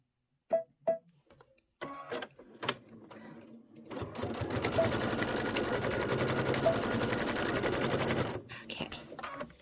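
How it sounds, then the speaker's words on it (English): A sewing machine back stitches a pocket pillow, with a few sharp clicks and taps before a close, steady motor buzz of about four seconds that then stops. "And I'm going to do a little back stitch right here."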